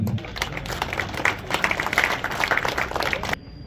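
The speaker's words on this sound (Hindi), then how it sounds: "तालियां आपके लिए माशाअल्लाह" An audience at a community award and service-honour ceremony breaks into applause for an honoree, dense clapping that swells slightly toward the middle, then cuts off abruptly near the end, leaving quiet room tone.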